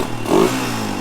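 A cheap dirt bike engine running close by, a brief steady rumbling idle with a slight rev swell, no talk.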